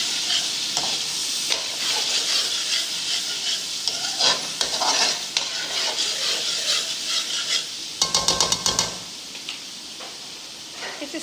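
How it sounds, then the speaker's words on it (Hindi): Potato curry masala being stir-fried in a pan with a little water added, a steady sizzle with repeated scraping and stirring strokes, some sharper clatters of the spoon against the pan near the end. "तो देखिए थोड़ी सी हम इसके मसालों की बुनाई करेंगे।"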